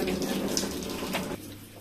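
Water runs from boiled vegetable noodles for chowmein into a kitchen sink as a steady, moderate splashing stream that cuts off abruptly near the end.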